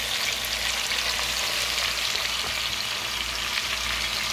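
Chicken browning in a pan for Cajun chicken fricassee, a dense, even, fairly loud sizzle that holds steady without pause.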